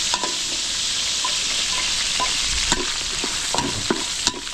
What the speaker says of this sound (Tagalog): habang ginigisa natin yun, hinihintay natin pumula yung ating bawang sibuyas